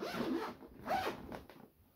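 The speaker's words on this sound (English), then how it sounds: "All the zips are working." Zips on an O'Neill bag are pulled open and shut, two quick close zipping strokes followed by a few short tugs.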